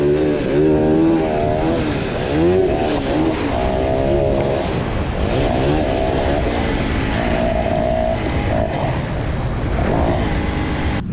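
Yamaha WR450F dirt bike ridden around a motocross track, its engine loud and close with repeated rising and falling revs as it accelerates and shifts, no talking.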